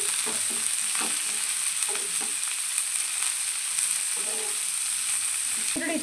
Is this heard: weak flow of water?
no